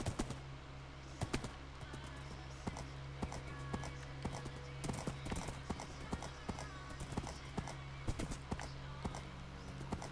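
A Minecraft horse's hooves clip-clop in a quick, irregular patter of light knocks throughout, fairly quiet, with faint game ambience and occasional voices in the background.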